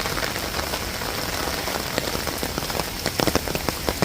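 Heavy rain pours down at an outdoor pension protest, a dense continuous hiss of drops with sharper splatters striking nearby surfaces toward the end, no voices present.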